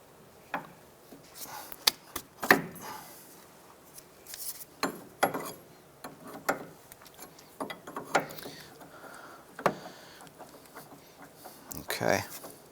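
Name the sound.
24mm wrench loosening a tie rod lock nut on a Ford Escape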